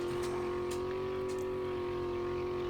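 A truck engine in a zombie survival video game drones steadily at a constant pitch with a rough, buzzy exhaust note, sounding faster than the vehicle moves, with no talk over it.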